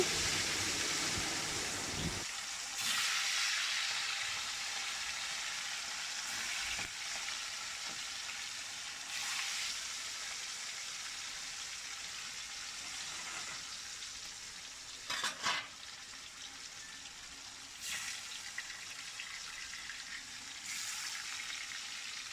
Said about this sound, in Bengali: সব মাছগুলো আমি এরম করে ভেজে নিচ্ছি